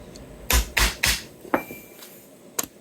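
Several sharp hammer taps drive a part into a vintage Flying V guitar in a workshop, a few close, uneven knocks with short pauses between them.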